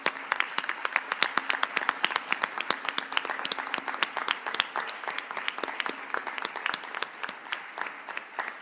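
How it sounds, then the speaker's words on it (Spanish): Sustained audience applause at a medical symposium on heart failure, dense and even clapping from many hands filling the room, steady throughout without speech over it. "me gustaría dar un aplauso"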